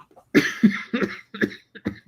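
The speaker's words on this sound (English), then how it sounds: "Hopefully my coughing doesn't wake him up." A run of harsh, close coughs, about six bursts in a rough uneven rhythm, each one short and throaty, fading toward the end.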